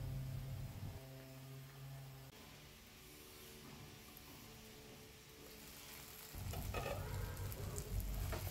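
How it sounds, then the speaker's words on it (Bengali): Tomatoes with salt sizzle in hot oil in a pan while being stirred, a steady soft frying hiss with scraping stir sounds, growing louder and busier toward the end, no voices. "এবার তেলের মধ্যে টমেটোটাকে নাড়াচাড়া করে একটু ঢাকা দিয়ে দেব, যাতে তাড়াতাড়ি টমেটোটা গলে যায় আর একটু ভাজা ভাজাও হয়ে যায়"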